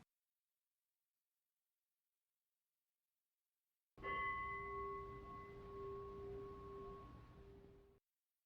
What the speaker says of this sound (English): we'll be here to hit the bell to end the meditation and give Jeff Sherman a call.